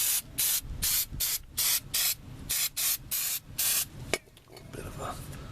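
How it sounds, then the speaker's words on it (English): A series of short aerosol spray bursts, about nine in a row with brief gaps, followed by a faint hiss and rustling, during mechanical repair on a 1987 Plymouth Gran Fury. "Here, I'll spray some now."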